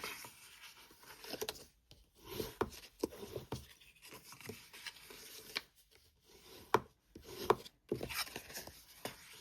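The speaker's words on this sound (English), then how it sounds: "Now let's just burnish these score lines. Get them nice and crisp." Score lines on paper are burnished for a fold-flat Christmas treat package, heard as quiet close rubbing and scraping strokes in short uneven bursts separated by brief pauses, with no speech.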